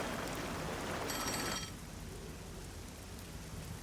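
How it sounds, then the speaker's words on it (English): A telephone rings in the video game Master Detective Archives: Rain Code, a short bright electronic ring heard faintly through steady rain before the ringing cuts off and rainfall continues alone. "You can hear the phone from out there."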